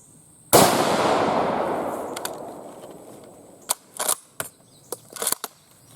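A Remington M1903A3 Springfield rifle fires one sharp, loud shot that rings and decays over a couple of seconds, followed by a scatter of quieter metallic clicks and clacks from handling the bolt.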